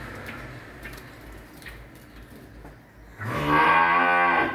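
Cattle on a farm raising young beef cattle about seven to ten months old. After a quiet stretch of low farm noise, one animal lets out a loud, close, drawn-out moo at the end.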